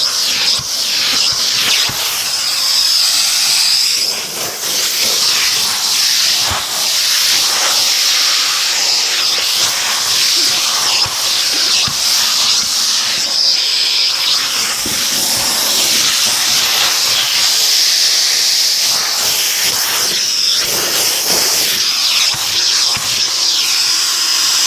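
A Dyson DC07 upright vacuum cleaner runs continuously. It makes a loud, close, airy hiss and whine with slight surging as the suction shifts, and no one speaks.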